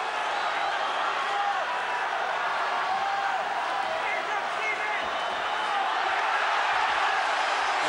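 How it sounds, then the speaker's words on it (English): A Cork boxing crowd roars steadily through Steve Collins versus Chris Eubank II for the WBO super middleweight title, a dense, sustained wall of cheering that swells slightly toward the end. "Every punch Collins lands being cheered to the echo by this Cork crowd"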